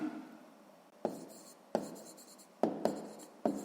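Pen on paper during a sixth-grade maths exercise, five quick scratchy strokes in an irregular rhythm, close and quiet, with faint background hiss between them.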